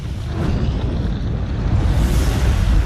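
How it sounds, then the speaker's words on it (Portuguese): A supernova explosion rendered as a deep, continuous rumbling roar, loud and sustained with heavy low-end noise throughout. "A espetacular explosão lança vastas quantidades de radiação letal no"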